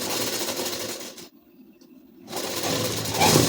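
Sewing machine stitching a ladies suit: a steady motor whir and needle rattle, stopping briefly for about a second before starting again, close and fairly loud.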